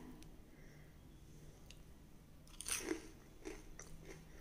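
Crispy thattai paruppu bonda is bitten and chewed close up, with a couple of faint crunches and a louder crisp bite in the middle, all quiet and without talk.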